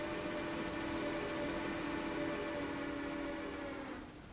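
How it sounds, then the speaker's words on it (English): A heavy passenger train hauled by two locomotives sounds a long, steady whistle at close range, the sustained tones holding over the rumble of the moving cars before tapering off near the end. "There's the passenger train blowing its whistle."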